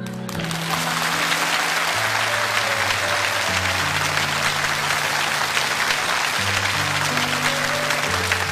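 Sustained, dense applause from a speech audience fills the whole stretch at steady loudness, with a musical tone running underneath.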